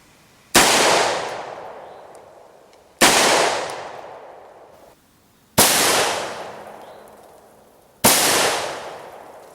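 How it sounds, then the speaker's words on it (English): Two SS109 62-grain armor-piercing rifle rounds fired at a steel plate in ballistic penetration testing, heard as four loud, sharp reports spaced roughly two to three seconds apart, each with a decaying echo tail. "Now 2 rounds with the SS109. This is 62 grain AP rounds, armor piercing."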